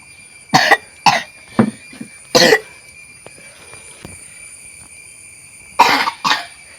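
Someone coughs after drinking a spicy home remedy for a cold, with a burst of four sharp coughs, a pause, then two more close by in a quiet room.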